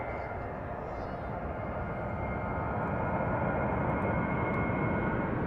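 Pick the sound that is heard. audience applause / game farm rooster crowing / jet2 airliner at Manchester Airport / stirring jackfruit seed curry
jet2 airliner at Manchester Airport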